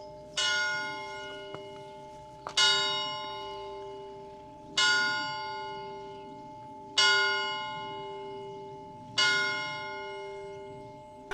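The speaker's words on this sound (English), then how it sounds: "Let's listen to the church bells for a moment of reflection." A church bell rings five slow, evenly spaced strokes, each bright clang swelling and then humming away into a long resonant decay.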